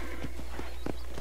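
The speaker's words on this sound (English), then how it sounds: "Whoa! Slow down, little horsey." Horse hooves clip-clopping in a quick, even rhythm from the Red Dead Redemption video game, with a short whinny mixed in, close and steady over a constant low hum.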